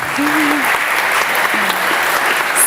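Audience at a data journalism awards ceremony applauding, a dense steady clapping throughout, loud and close, with some brief voices faintly heard over it.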